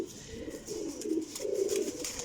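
Pigeons kept by a breeder coo in a few rolling, low throaty phrases, close and moderately loud, with no voices over them.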